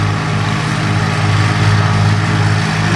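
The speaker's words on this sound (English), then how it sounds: "Here he comes on his custom lawnmower." A custom riding lawn mower's engine runs steadily and fairly loud throughout, a continuous low drone with a constant idle-like hum and no voices.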